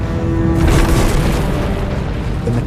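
Asteroid impact explosion: a deep, loud, sustained boom with rumbling low end that rolls on for several seconds without any voices.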